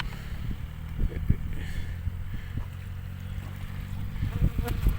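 Honey bees swarm around an opened wooden hive during a late-spring inspection, a dense low buzzing hum holding steady throughout with a few louder swells near the end.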